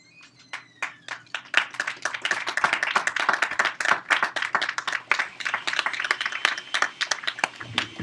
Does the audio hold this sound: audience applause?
yes